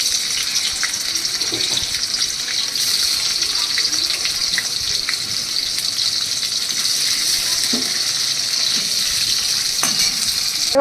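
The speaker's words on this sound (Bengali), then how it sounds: "এবার এই পনিরগুলো একদম হালকা করে একটু এপাশ ওপাশ করে ভেজে নেব" Paneer pieces fry in white oil in a wok for butter paneer, a steady hiss of sizzling throughout with faint scattered pops and a few soft clicks, no voices.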